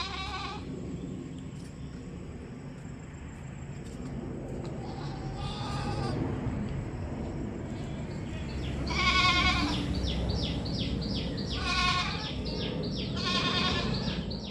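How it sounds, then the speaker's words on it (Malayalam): Two roughly five-month-old Malabari goat kids, a male and a female, bleat close by in repeated short wavering calls, several in a row near the end, over a low background murmur. "നല്ല 2 മലബാരിപ്പെട്ട 2 ആടുകുട്ടികൾ ഏകദേശം ഒരു 5 മാസം പ്രായമായിട്ടുണ്ടാവും"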